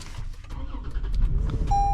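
A 2023 Toyota 4Runner TRD Off Road Premium engine starting up: a brief starter crank leading into a steady low idle rumble, close by, with a faint electronic chime tone near the end.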